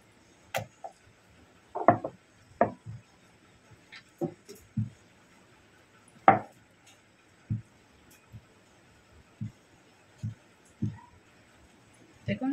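Lachha paratha dough being rolled out with a rolling pin on a board, a series of soft, scattered wooden knocks and thumps, some closer together, spaced over a quiet background.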